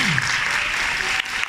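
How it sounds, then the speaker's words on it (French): Audience applause welcoming a film crew at a screening event, a brief, loud burst of dense clapping filling the room, with a faint voice briefly under it. "Je vais vous demander un tonnerre d'applaudissements pour accueillir l'équipe du film."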